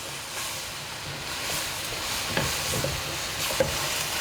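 Spices and tomatoes with extra chili cook in a pan with a soft hissing sizzle, broken by occasional spoon scrapes and light clinks as the mixture is stirred.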